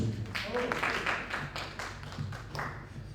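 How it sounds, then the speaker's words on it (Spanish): Modest applause from an audience at a public screening of audiovisual projects, scattered clapping with a few distinct claps, mixed with some voices in the background. "pueden aplaudir también, claro"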